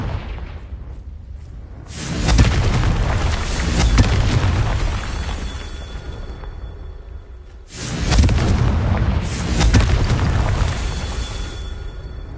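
The Confringo explosion spell in Hogwarts Legacy lets off two heavy booming blasts several seconds apart, each a loud rumbling burst that slowly fades under a low background hum.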